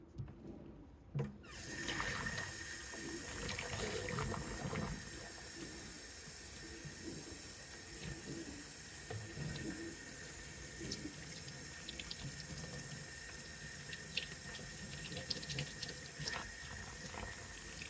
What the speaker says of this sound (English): let's give it a good rinse.